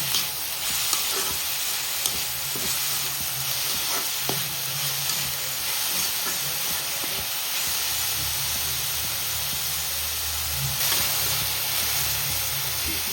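Chopped onions fry in hot oil together with agathi flowers for a Kerala stir-fry, a steady close hiss of sizzling broken by occasional scrapes and clicks of stirring, with no voices.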